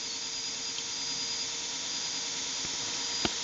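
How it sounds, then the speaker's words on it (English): A Netgain WarP9 electric motor in an EV drive setup idles at about 600 rpm, giving a steady, continuous high-pitched whine with faint tonal wavering and a brief click near the end. "And the motor is playing this funny melody."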